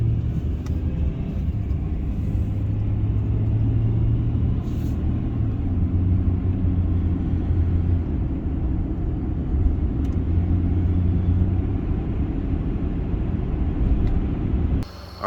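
A 2008 Honda Ridgeline cruises at night with a steady, loud low engine and road rumble heard from inside the cab, unchanging throughout.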